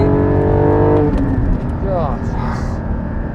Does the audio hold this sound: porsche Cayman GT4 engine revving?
yes